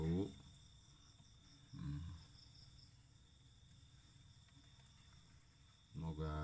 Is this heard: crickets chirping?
yes